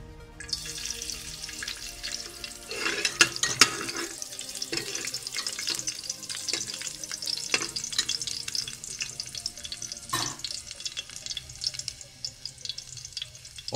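Chopped garlic cloves sizzle and crackle in hot oil in a pan, a continuous close frying hiss with scattered pops and stirring clatter, no talking.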